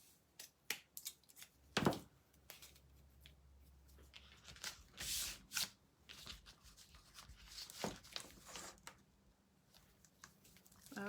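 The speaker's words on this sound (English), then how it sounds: "I don't want this big huge ribbon to be on the back. Okay, let's trim off the ends here." Scissors trim the ends of a ribbon on an embroidery hoop sign, giving a few sharp, close snips scattered among soft rustling and handling noises, quiet overall with no talk.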